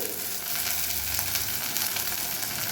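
Onion and garlic sautéing in a pan give a steady, close sizzle that fills the clip without pause, with faint stirring scrapes and no voices.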